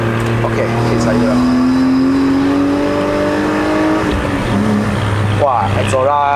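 A BMW E36 325i with a five-speed manual and cold air intake revs up on a cold mountain road climb in Malaysia, its engine note rising steadily up close, with a voice speaking over it near the end.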